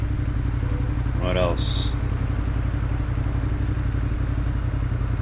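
A motorcycle rumbles steadily under a rider's short spoken remark, with a continuous close engine drone and road noise throughout a New York City ride.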